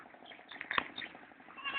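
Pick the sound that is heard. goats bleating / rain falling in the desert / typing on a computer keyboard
goats bleating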